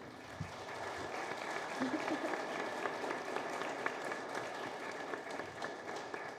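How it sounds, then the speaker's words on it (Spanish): Steady, moderately distant applause fills a hall as an audience at a Mexican book fair welcomes a speaker, with dense continuous clapping and faint crowd murmur. "Les pido un fuerte aplauso para recibirla."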